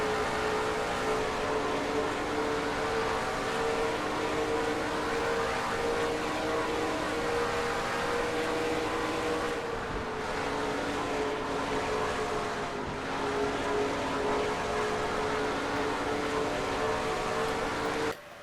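Race cars in a NASCAR racing video game lapping Las Vegas Motor Speedway at over 200 mph, a loud, steady engine drone with layered harmonic whine and slight dips as cars pass, continuous throughout with no voices.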